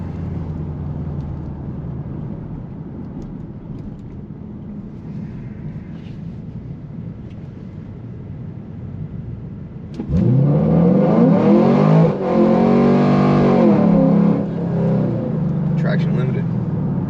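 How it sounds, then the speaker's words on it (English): A GM car accelerating hard from a roll, with quiet cabin noise giving way to a loud surging engine climb through first gear, a brief cut near the top of the 1-2 shift, then continued pull; no talk. "The little cut you heard at the top of the 1-2 shift was actual traction control."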